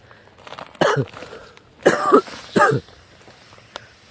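Three harsh coughs from a man with a cold and congestion, one brief and then two heavier ones in quick succession, close to the microphone in a quiet room.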